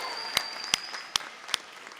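Graduation ceremony audience applauding for graduates, a steady wash of clapping with a few sharp whistles or cheers cutting through at regular intervals, fairly close and moderately loud.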